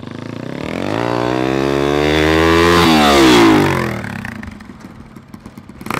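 A dirt bike engine revs up and climbs to a peak, then drops away as the rider brakes hard using only the front brake, ending in a rough, faint clatter and scrape.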